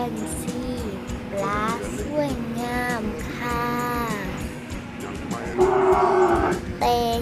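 Several cows moo in turn, long drawn-out lowing calls close by, over a busy cattle farmyard background with some faint voices.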